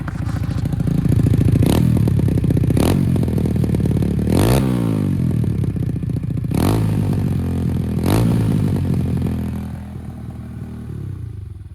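A minibike engine with a small hole in its exhaust pipe runs close up with a rough, rattly exhaust note, revving up in several sharp bursts before settling to a lower idle.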